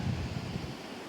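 Surf at Pakala Beach washes in as a soft, steady rush mixed with wind noise on the microphone, faint and continuous with no voices over it.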